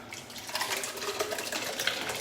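Liquid pouring steadily into a pot, a continuous splashing, gurgling stream heard up close.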